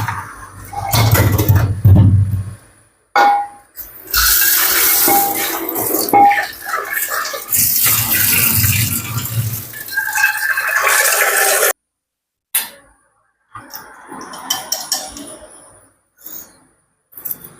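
A cooking pot of boiled potatoes lifted off a stove, with metallic clanks and scrapes of pot and lid, bursts of clattering and water noise, loud and close, broken by short pauses.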